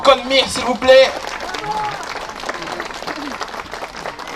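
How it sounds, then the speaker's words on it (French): Applause at a street food festival in Vincennes: a crowd claps steadily and fairly loudly for a performer while a host speaks over the clapping at the start. "On peut l'applaudir encore très très fort"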